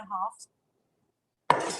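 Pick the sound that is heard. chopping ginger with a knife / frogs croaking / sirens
chopping ginger with a knife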